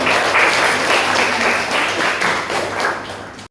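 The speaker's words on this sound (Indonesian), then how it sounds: "Tepuk tangan." A classroom of students applauds at the end of a group presentation, loud and close, with many hands clapping in a continuous dense patter that tapers off at the end.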